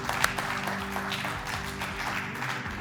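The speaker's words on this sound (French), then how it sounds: "Sana, on va l'applaudir très fort" Audience applause at a French-language quiz segment, steady dense clapping throughout with background music tones running underneath, no voices heard.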